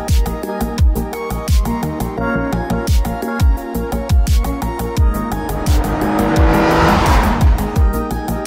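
A Mercedes-Benz car is driven hard with revving engine bursts and repeated loud tire squeals, close and continuous throughout.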